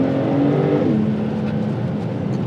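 A Porsche 911 Turbo's boxer six-cylinder engine with sport exhaust, a loud, smooth, deep drone with a tone that rises briefly and then settles lower and steady, heard up close without talk.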